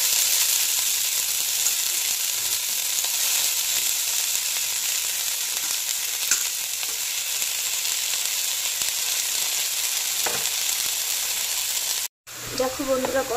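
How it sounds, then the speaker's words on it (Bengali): Washed flowers frying in oil, a constant loud hiss of sizzling that fills the whole stretch, with a few faint knocks and a brief break near the end. "এবার এইগুলো ওকে তেলের মধ্যে ঢেলে দেব"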